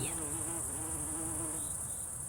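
A steady, close buzzing of early-season bees among flowers, with a shifting drone, steady and fairly quiet, with no talking.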